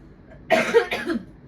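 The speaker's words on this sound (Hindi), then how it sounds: "खांसी से स्टार्ट होगी।" A single close, harsh cough in two quick bursts, loud against an otherwise quiet room.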